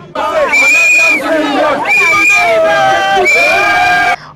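A large, loud crowd of supporters greets Simone Gbagbo's arrival with continuous screaming, cheering and chanted singing, swelling in waves that stay dense and near throughout.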